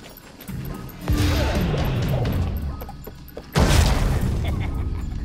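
Two loud bomb blasts in the Abe's Oddysee stockyard, the first a heavy crash around one second in and the second a sharper boom shortly after three and a half seconds, each followed by a long rumbling roar.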